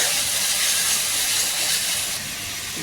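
Fish (tilapia, for a kalia) fries in a pan as a loud, steady hissing sizzle that drops slightly in level toward the end, with no talking.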